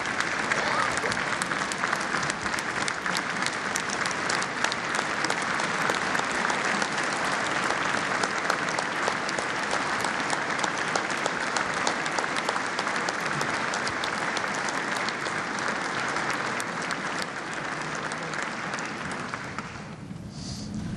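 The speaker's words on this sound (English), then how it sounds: "See, Caitlin, they clapped a lot more for you than they did me." Sustained, dense applause from a large audience at a state address honoring the Teacher of the Year, loud and even for about twenty seconds before tapering slightly at the end.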